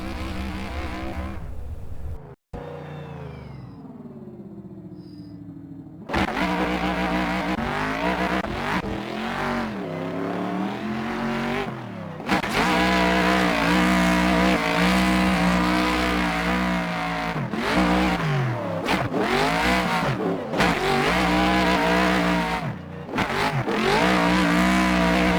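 A race car in a video game laps a Riga, Latvia circuit, its engine loud and continuous with repeated revving and gear-change dips and brief tire squeals, alone without talk.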